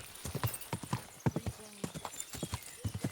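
Steady clip-clop of horse hooves at a trot in the video game Kingdom Come: Deliverance 2, close and fairly quiet, with a brief whinny-like tone partway through.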